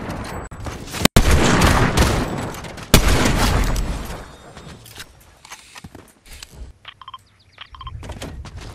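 Heavy bursts of video-game gunfire fill the first few seconds during a boss fight, loud and dense with sharp reports, then thin out into scattered mechanical clicks and quieter effects.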